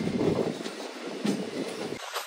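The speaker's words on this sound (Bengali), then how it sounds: "জঙ্গলের মধ্যে থেকে যখন ট্রেনটা পাস করছে" A local train rumbling through forest in the Dooars, between Lataguri and Siliguri, at steady speed; a continuous rolling roar with faint rhythmic wheel noise, no talking.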